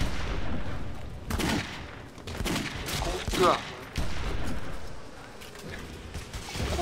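Rapid bursts of gunfire in the video game Clive Barker's Jericho, loud volleys and booms that come and go over several seconds, with a man briefly calling out over the shooting.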